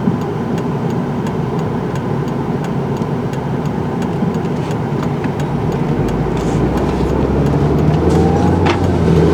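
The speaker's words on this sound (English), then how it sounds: "Man, there's a lot of cars." Steady road traffic noise with a continuous rumble of many cars passing, some tyre hiss and occasional louder swells of nearer vehicles, with no talk.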